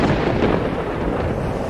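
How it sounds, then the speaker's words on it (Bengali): Thunder rumbling in a storm at sea during a horror adventure tale, a dense, loud roar with steady low-frequency rumble running through the whole short stretch, no voices. "মেঘের গর্জন, বজ্রপাত"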